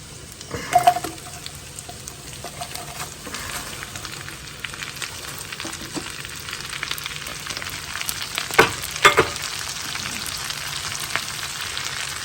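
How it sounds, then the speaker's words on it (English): Chopped cabbage and onions sauté in a hot pan, giving a steady low sizzle with a few sharper clicks and scrapes of stirring. "We're going to saute the cabbage and the onions."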